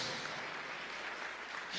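Audience applause at a talk on couples' mistakes, a steady dense wash of clapping filling the short moment without a break and with no voices over it.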